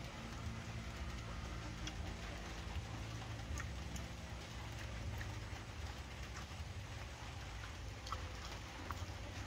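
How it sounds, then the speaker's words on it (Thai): Rain falls steadily in Thailand, a constant dense hiss with faint scattered drops and a low rumble underneath, without any voices. "ฝนตกบ่อย"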